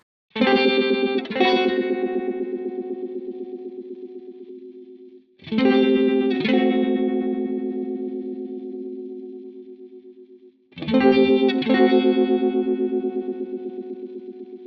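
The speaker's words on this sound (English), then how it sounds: "that LFO shape a little more of a chaotic, kind of warping the sound a little bit" Three strummed electric guitar chords through a Line 6 Helix, each ringing out for several seconds with a chaotic LFO-driven wobbling, warped modulation effect that bends the tone unevenly.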